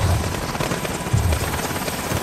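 A helicopter's rotor chops and hums steadily and loudly throughout in Call of Duty: Modern Warfare, with no voices.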